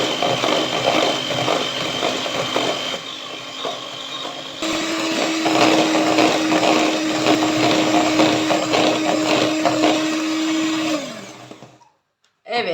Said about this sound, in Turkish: çırpıyoruz mikserimizde bir 5 dakika.